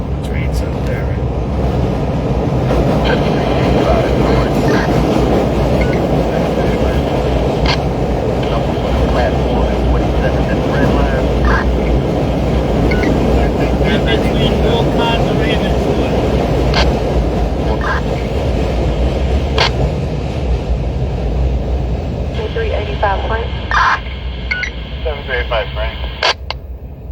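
A heavy, continuous rumble and roar of a Chicago elevated train passing overhead fills the whole stretch, with rattling and clanks over it and faint voices underneath.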